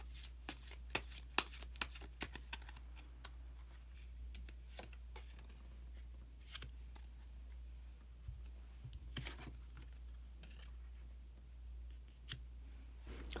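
Tarot cards shuffled by hand at close range, with a flurry of crisp riffling snaps and clicks at the start, then scattered softer card taps and slides in a quiet room, with no talking.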